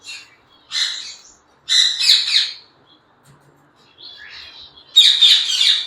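Gouldian finches chirping nearby in a clear, loud sequence of short bright calls with gaps between them, no other sound present.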